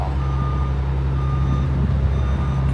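A Caterpillar heavy machine moving home demolition debris sounds steady, loud reversing beeps close by, repeating at an even pace over a constant low engine rumble.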